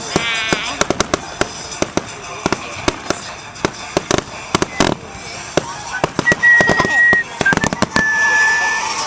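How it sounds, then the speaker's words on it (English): July 4th fireworks exploding in a rapid, irregular series of sharp bangs and crackles, some close and loud, with a whistling rocket streaking midway and faint voices in the background. "You're missing the fireworks."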